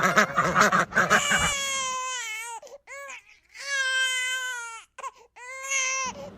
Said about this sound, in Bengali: বাচ্চাটির কান্নার আওয়াজ শুনে আমাদের রাধার ঘুম ভেঙে যায়।